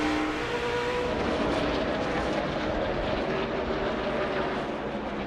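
NASCAR race cars roaring around the Bristol track in a steady, loud wash of engine noise, a dense pack of cars blending into a continuous drone with no talk.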